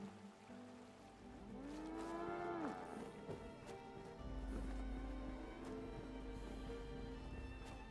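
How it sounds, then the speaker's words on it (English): A two-headed cow in Fallout 76 gives a long, bending low moo that rises and falls near the listener over steady ambient game noise, with no talk. "cows always weird me out"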